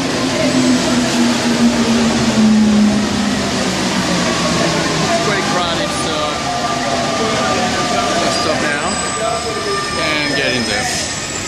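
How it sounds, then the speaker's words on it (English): A Paris Métro train rumbles into the station loudly, wheels screeching and squealing as it slows, with brakes hissing and a high whine near the end. "Here comes our train here."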